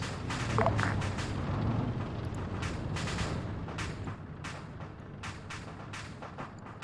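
High-explosive artillery rounds firing in a military video game, a series of booming blasts and sharp cracks, some near and heavy, others farther off, repeating irregularly over a rumbling battlefield background.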